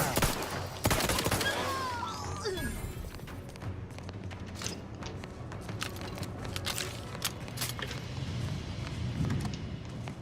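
Gunfire in the video game The Outer Worlds: a burst of loud shots near the start, then a steady stream of rapid, sharp reports with thuds and game noise, close and dense throughout, with a voice talking at times.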